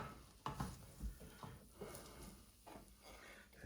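Ingredients being stirred and mixed together in a pot or bowl while cooking, with faint, irregular scraping and clinking strokes and a soft sizzle in the background.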